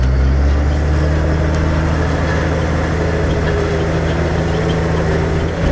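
A tractor engine drones steadily while pulling a rotary harrow across a field, a loud, continuous low rumble with constant mechanical clatter and no break.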